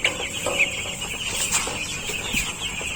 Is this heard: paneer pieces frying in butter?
no